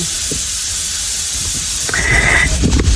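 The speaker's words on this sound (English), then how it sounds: "I'm boiling some water for some cup soup" Constant loud hiss of water boiling for cup soup, steady and close, with a brief higher whistle-like tone and some faint clatter near the end.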